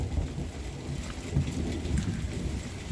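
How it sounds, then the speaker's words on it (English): Real thunderstorm recordings played back, with low rolling thunder rumbles under steady rain and dripping, continuous and fairly close, with no voices. "All the thunder that plays is thunder that I have recorded from previous thunderstorms."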